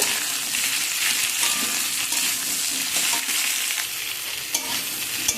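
Tomato and potato frying in a pan, a steady loud sizzle with occasional clicks of a spatula stirring through, close up and unbroken for several seconds.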